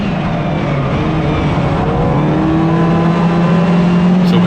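Race car engine holding a steady high drone with rising harmonic tones while running the inside line on a track, loud and continuous with no talk.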